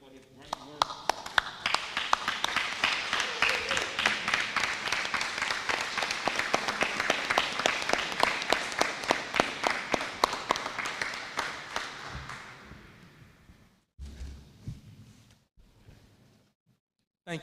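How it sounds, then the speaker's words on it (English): An audience at a county public schools board meeting applauds Superintendent Dixon with sustained, dense clapping for about twelve seconds that then fades out, followed by quieter room noise. "May we applaud Superintendent Dixon for his great work."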